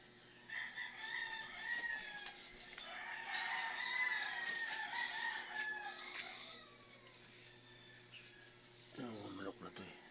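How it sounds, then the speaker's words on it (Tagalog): Backyard chickens cluck and a rooster crows at moderate distance while a person talks nearby, with a faint steady hum underneath. "Manok na to eh."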